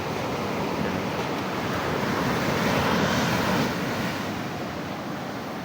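Steady roar of ocean surf with waves washing in continuously, broad and rushing, with some wind buffeting the microphone and no voices.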